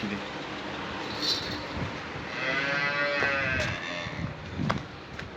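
A calf moos on a village farm over a steady background hum, with a longer drawn-out low call in the middle, fairly close.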